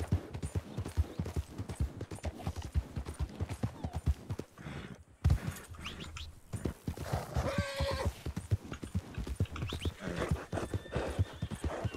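Horses galloping in a video game chase: rapid, continuous clip-clop of hooves close up, with a horse whinnying partway through, and no speech.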